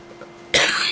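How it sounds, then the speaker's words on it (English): One abrupt, breathy cough bursts out after a brief quiet moment, close and fairly loud. "so my cough will allow us to wait 10 second"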